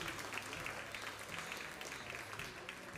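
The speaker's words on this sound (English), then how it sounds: "let's give a round of applause to our finalists here in this senior deal." Spectators at a youth livestock swine show applaud the senior finalists, a steady continuous patter of clapping from a crowd, faint and distant.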